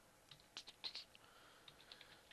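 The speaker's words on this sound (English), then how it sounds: "Don't even know what I'm typing." Typing on a computer keyboard: a quick, irregular run of soft key taps, clustered early then sparser, close and fairly quiet with no talking.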